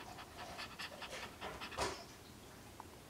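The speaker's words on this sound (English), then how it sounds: "Panting and lots of panting, and just started pushing recently." Chocolate Shih Tzu in early labor panting rapidly, a close, soft, rhythmic stream of quick breaths repeating steadily over a few seconds with no talking.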